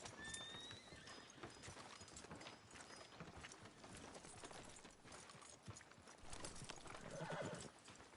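Horse hooves clip-clop at a steady walking rhythm in Red Dead Redemption 2, with a brief whinny and faint background noise, fairly quiet overall.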